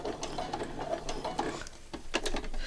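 A sewing machine stitches fabric with a fast, steady mechanical clatter of needle strokes, close and moderately loud, running without talk.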